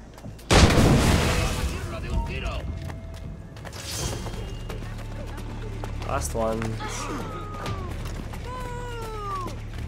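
A loud gunshot bursts out early in an Assassin's Creed 4 Black Flag barrel shooting sequence, followed by quieter game rumbles and clatter, with voices talking over the action.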